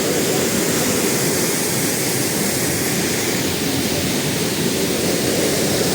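A steady, loud broadband roar of the Cehennem waterfall, heard from the very top of the falls, continuous and close with no voices over it.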